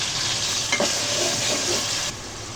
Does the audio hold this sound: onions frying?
yes